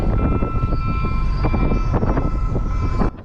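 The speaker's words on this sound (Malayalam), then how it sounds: "ഇപ്പോൾ ട്രെയിൻ ഇതിലൂടെ പാസ് ചെയ്ത് പോകും" A train roars through a level crossing in Tanta, Egypt, a loud, close rumble with rattling wagons and a sustained tonal whine, cutting off abruptly near the end.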